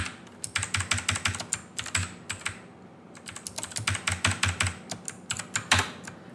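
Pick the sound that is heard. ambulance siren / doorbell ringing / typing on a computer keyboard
typing on a computer keyboard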